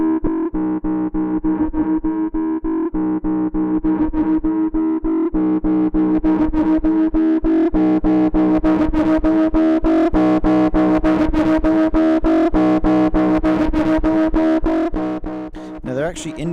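Bass line pushed through Wave Arts Tube Saturator 2 tube distortion, a thick, gritty, sustained riff of repeating notes played loud and continuous, tapering near the end.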